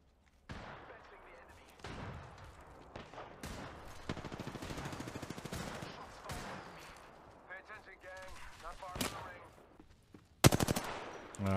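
Kraber sniper rifle and other gunfire in an Apex Legends match, a dense run of shots and bursts through most of the stretch with a sharp loud blast near the end.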